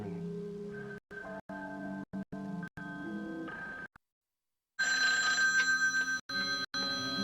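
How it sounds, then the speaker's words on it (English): A telephone rings in a home in a 1981 soap opera, loud repeated ring bursts separated by short pauses, with a brief silence midway before the ringing resumes. "The phone ringing."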